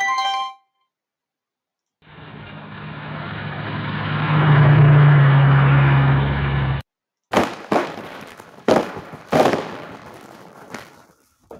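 AI-generated sound effects from Stable Audio: a short ringtone-like chime, then a swelling roar of rumbling noise for several seconds, and after a gap a series of sharp, loud bangs and pops like firecrackers.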